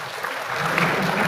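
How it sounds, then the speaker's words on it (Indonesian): A church congregation breaks into loud applause, a dense burst of clapping that swells quickly and stays strong through the short moment. "Berikan tepuk tangan buat Tuhan Yesus."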